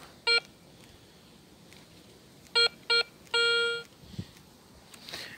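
Metal detector sounding outdoors: short electronic tones, first a single beep, then two quick ones, then a longer sustained tone, each standing out clearly over quiet background hiss.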